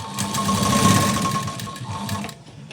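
A sewing machine runs a fast, loud, continuous line of stitches along folded fabric piping, close up, then slows and stops near the end.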